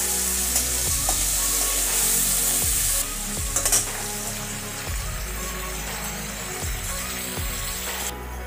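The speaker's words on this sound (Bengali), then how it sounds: "মাছগুলো ভাজা হয়ে গেছে" Prawns (bagda chingri) sizzle steadily in a frying pan for a Bengali prawn kalia, with regular scraping stirs of a spatula every second or so, close and loud, no voices.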